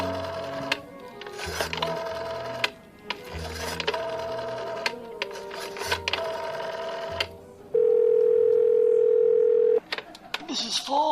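A telephone in a phone booth gives a string of short dialing sounds in bursts, then a steady, loud dial tone holds for about two seconds before it cuts off, all close and clear.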